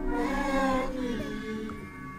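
A cat cries in the horror video game Baby in Yellow, a short drawn-out meow heard alone at low level against quiet game ambience.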